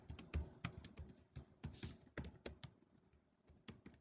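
Quick, irregular clatter of computer keys as code is typed, the taps sharp and close, coming in bursts with short pauses and no voices.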